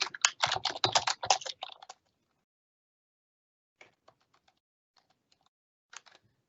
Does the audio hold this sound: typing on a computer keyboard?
yes